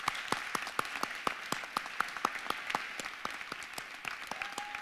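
Applause from the audience at a university public-policy challenge finals ceremony: sparse, rhythmic individual claps stand out over a faint crowd wash, moderately quiet and steady throughout.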